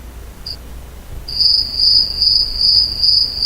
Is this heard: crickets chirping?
yes